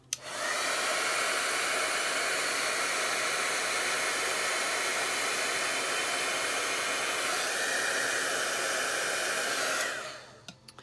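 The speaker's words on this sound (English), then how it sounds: "now let's hit these with the heat gun" A heat gun warms alcohol ink embellishments, blowing a loud, steady, close whoosh for about ten seconds before switching off, with no talking.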